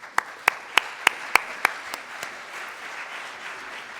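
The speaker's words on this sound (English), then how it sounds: "I think we'll give everyone a round of applause." A brief round of applause from a formal assembly audience: a handful of crisp, evenly spaced claps stand out at first, then the clapping thins into a soft, fading patter.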